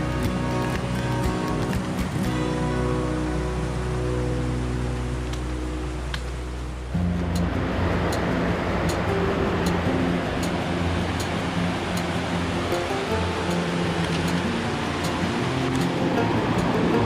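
A beautiful mossy river flows through the forest of Mt Richmond Forest Park, New Zealand, making a steady, dense rush of water that fills the whole stretch and grows broader and brighter partway through.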